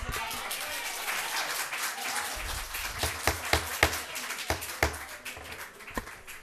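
Scattered applause breaks out among attendees at a town selectmen meeting, a thin, uneven patter of clapping with a few sharp louder claps standing out, mixed with faint murmuring.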